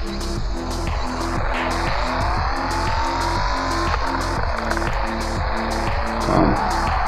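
Car drifting in the video game FR Legends, a steady engine drone with a rhythmic pulsing note and sweeping tire-squeal tones, loud and continuous throughout with no talk.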